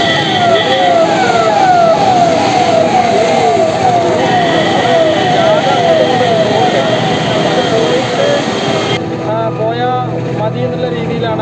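An ambulance siren wails through a traffic block, a loud continuous warbling tone over dense engine and road noise, cycling rhythmically and then shifting to a faster pattern near the end.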